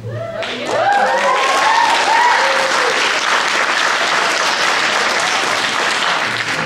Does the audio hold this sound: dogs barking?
no